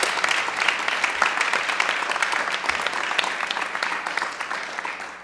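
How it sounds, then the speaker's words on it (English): Sustained audience applause fills a choral concert hall, dense and steady clapping from a large crowd throughout, with no voices over it. "let's have a big round of applause for our announcers today, Carmela and Ken"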